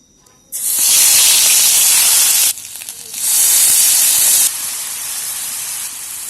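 Raw vegetables dropped into hot oil in a pan sizzle loudly and close, a harsh bright hiss that bursts in, dips briefly, surges again, then settles into a softer steady frying.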